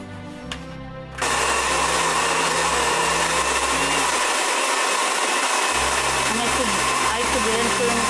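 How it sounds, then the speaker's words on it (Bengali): An electric blender roars to life and runs steadily as it blends milk and pulao rice for payesh, loud and close, with a brief pitch dip midway. "আরেকটু ব্লেন্ড করে নিচ্ছি।"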